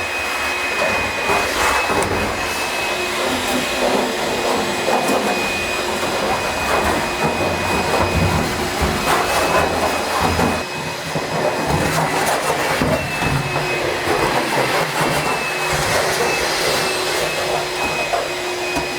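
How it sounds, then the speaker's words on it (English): A shop vacuum roars continuously at close range, a loud steady whine with rushing air and a brief dip midway, with no talking. "let's get the vacuum here"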